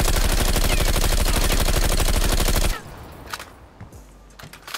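A 50-round automatic weapon in Call of Duty Cold War fires a rapid, loud, evenly spaced burst of shots that stops abruptly, followed by quieter reload clicks and handling noises.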